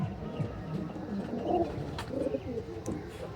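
Pigeons of a pure star-line breed, including a long-tailed bird, coo softly in low, rounded calls, somewhat distant and faint, over a murmur of background noise.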